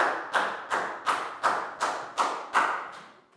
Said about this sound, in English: big round of applause for Bangpon